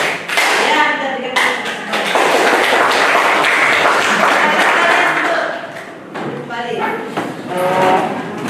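A class at a vocational high school claps together in counted patterns, sharp group claps and sustained clapping broken by short pauses, with voices speaking between bursts.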